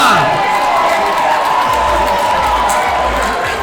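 A live event audience cheers and shouts continuously, a dense crowd roar with whoops and some clapping, loud and sustained while a host urges them on during a timed game.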